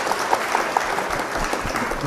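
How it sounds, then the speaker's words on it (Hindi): Audience applause welcoming a chief medical officer at a health programme, steady dense clapping throughout, fairly loud and close, with no voices over it. "तालियों के साथ स्वागत करेंगे डॉक्टर संतोष गुप्ता सर का"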